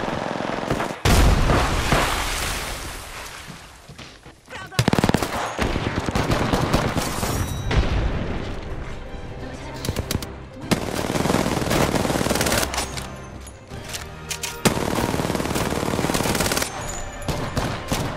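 Heavy automatic gunfire rattles through an Apex Legends firefight, long sustained bursts and sharp single cracks layered loudly, with brief in-game voice callouts mixed in.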